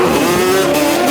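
A 700-horsepower C8 Corvette launches hard at a drag strip in an eighth-mile race against a race-spec Banshee, a loud, close, sustained engine roar with rising tonal revs and a hint of tire squeal, with no talking.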